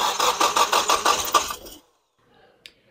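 A Nissan SR20DET engine on a rebuilt 600hp setup revved lightly, several rhythmic throttle blips rising and falling before cutting off abruptly into near silence with a faint click afterward.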